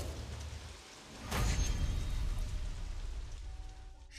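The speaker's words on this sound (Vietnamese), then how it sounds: "trời nói mưa là mưa ngay vậy" Steady rain sets in and patters densely on surfaces, a broad hiss with a brief louder surge near the start, heard alone with no voices.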